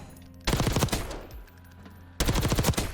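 Two loud, rapid bursts of automatic gunfire ring out in the Black Ops 6 video game firing range, separated by a short pause.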